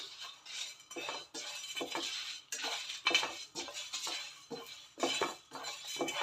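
A metal spoon stirs and scrapes ingredients in a pan while frying them for a village-style chicken curry, with repeated clinks and clatters in irregular bursts, close up and moderately loud, without talk.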